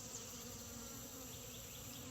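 Honey bees buzz in a steady, close, unbroken drone that fills the short stretch with no other sounds.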